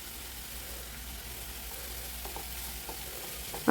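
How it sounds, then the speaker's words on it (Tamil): Onions with rock salt sautéing in a pan for a brinjal and potato kara kuzhambu, a steady close sizzle with faint stirring taps and a brief knock at the end. "அதை நல்லா போட்டு வதக்கிக்கோங்க"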